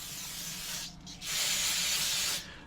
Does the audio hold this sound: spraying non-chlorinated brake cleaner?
yes